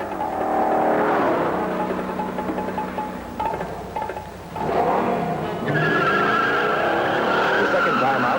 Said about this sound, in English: the car roared out of the hole